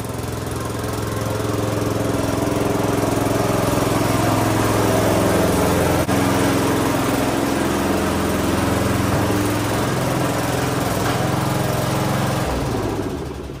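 A 1989 Craftsman all wheel steer lawn tractor engine runs steadily at a constant buzzing drone, close and loud throughout, then cuts off abruptly at the very end.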